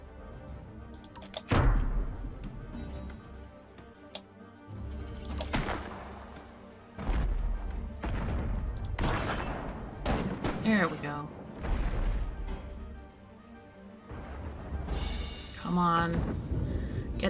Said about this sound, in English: Keep shooting us, but that's okay. We'll keep shooting back.